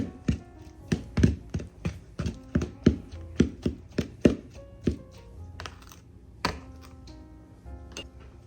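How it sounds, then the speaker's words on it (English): A knife chops apple bits for a caramel apple dump cake in a close, steady run of crisp taps on a cutting board, then slows to a few scattered strikes, with no voices. "Just chopping up the ones that I couldn't reach at the bottom."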